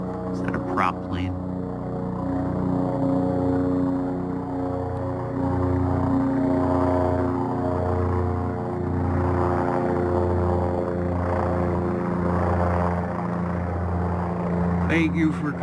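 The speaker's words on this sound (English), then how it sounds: "Is that a prop plane?" A propeller airplane drones overhead, its engine a steady, throbbing hum with pulsing beats that stays loud and continuous throughout, with occasional faint voices nearby.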